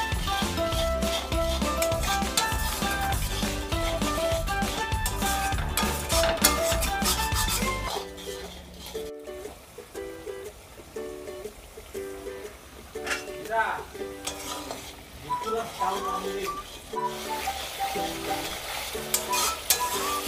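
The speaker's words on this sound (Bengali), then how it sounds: "এখন আমি সমস্ত উপকরণ একসঙ্গে আবার নাড়িয়ে চাড়িয়ে কষিয়ে নেব" Spice masala with cumin and coriander powder for vegetarian ghugni being stirred and fried in a pan, a steady sizzle with scraping strokes, background music playing throughout.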